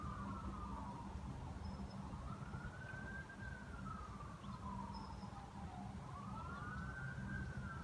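A wailing siren rising and falling slowly in long sweeps, fairly faint and distant over a steady low rumble of background noise, with no voices.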